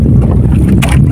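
Steady low engine rumble of a fishing boat at sea at night, with wind and water wash blended in, loud and close throughout with no speech.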